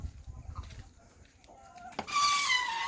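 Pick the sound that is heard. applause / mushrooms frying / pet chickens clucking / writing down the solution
pet chickens clucking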